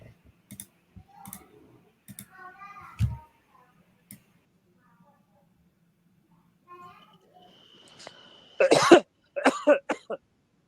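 A recorded cough sample played back: a single sharp cough bursts out among soft clicks and faint noises, followed shortly by a few more harsh, throaty coughs near the end.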